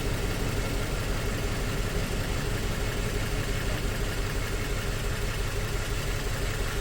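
A Toyota Tacoma four-cylinder engine idles close up with a misfire, a steady rough drone with a faint uneven pulsing throughout and no talk.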